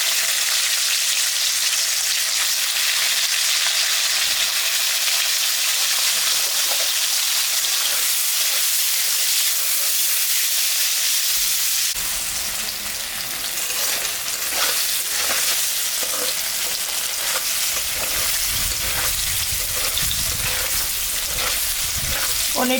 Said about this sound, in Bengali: পনিরটা এখন ভাজে নেব।